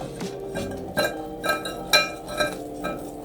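Pancake batter whisked with milk in a bowl: a rhythmic series of bright clinks and taps of the whisk against the bowl, about two per second, close and fairly loud, with no voices.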